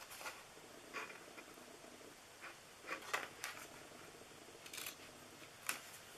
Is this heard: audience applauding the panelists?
no